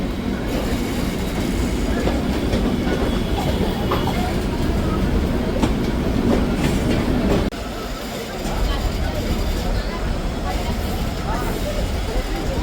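Ganadevta Express train on the Azimganj–Howrah route pulling into Howrah station, a loud continuous rumble with clattering wheels and occasional squeal, heard from onboard with voices mixed in.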